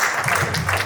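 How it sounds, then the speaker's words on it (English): Audience applause at a mental and physical health awareness day event, a brief burst of dense clapping from a crowd, steady and fairly loud throughout. "please give a round of applause, please"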